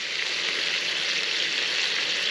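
Steady, loud sizzling of bacon frying in a pan for breakfast at a camp in Scotland, a continuous close hiss with no breaks and no talk.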